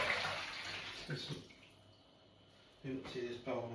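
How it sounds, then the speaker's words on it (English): A bowl of water is emptied out in short splashing pours with a brief pause between, close and fairly quiet. "empty this bowl of water."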